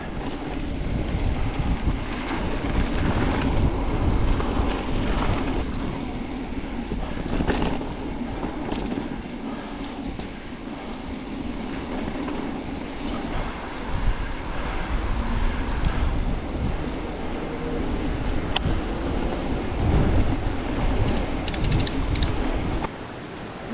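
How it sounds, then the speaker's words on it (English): Steady broadband roar of a huge waterfall heard from a mountain-bike trail above it in the Marquette South Trails, continuous and fairly loud throughout, mixed with wind buffeting the microphone and no talking. "there's a huge waterfall down below here"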